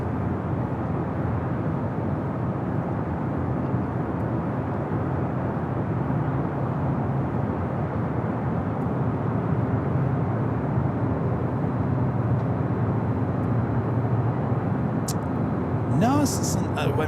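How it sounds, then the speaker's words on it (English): A Turkish Airlines Airbus A350 taking off from the south runway at Los Angeles International Airport, a steady broad jet roar that stays even throughout, heard from a distance, with someone talking over it. "Turkish A350 next takeoff on the south."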